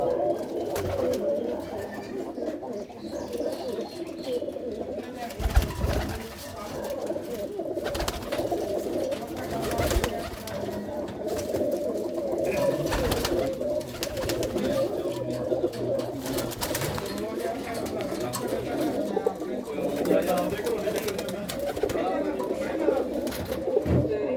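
Pigeons coo continuously in a low, throaty murmur, close and steady throughout the recording, with faint background noise and no clear talk.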